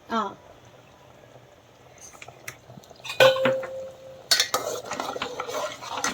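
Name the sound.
stirring curry in a cooking pot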